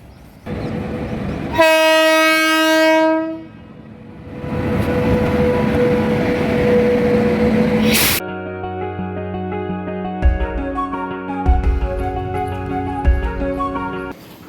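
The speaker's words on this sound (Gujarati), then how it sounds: "ટ્રેન આવી ગઈ. જો આવે છે." A train arrives at a station with a loud, sustained horn blast, then a heavy rolling rumble, a second sharp horn, and the rhythmic clatter of cars passing close by.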